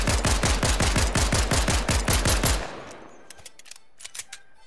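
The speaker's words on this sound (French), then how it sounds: "Puis maintenant, je vais tirer." Rapid burst of gunfire from a new Fortnite weapon in Creative mode, about a dozen loud evenly spaced shots over roughly two and a half seconds, then a faint tail with a few small clicks and pings.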